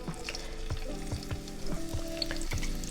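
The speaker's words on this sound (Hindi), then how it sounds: "घी गर्म हो गया है, अब हमने जो प्याज तड़के के लिए अलहदा सा काटा था ना वो इसमें डाल देते हैं सारा" Chopped onions hit hot ghee in a pan for a beef nihari tadka, giving a steady close sizzle with occasional stirring clinks and scrapes and no voices.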